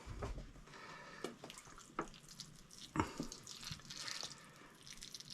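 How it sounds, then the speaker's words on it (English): Water trickling from a can onto compost around freshly transplanted tomato seedlings, a soft continuous splashing and dripping with a few brief louder splashes, fairly quiet and close. "And again, just giving it a little watering in."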